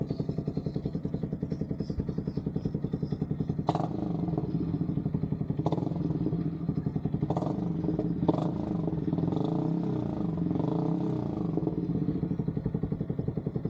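A Yamaha XSR 155 motorcycle fitted with a new aftermarket muffler idles with a steady, bassy exhaust beat, punctuated by several sharp throttle blips and revs, loud and close throughout.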